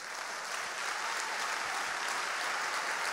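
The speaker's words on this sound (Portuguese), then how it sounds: "Eu queria que a gente começasse a aplaudir agora" An audience in a church breaks into sustained applause, a dense, even wash of many hands clapping that holds steady throughout, with no one talking.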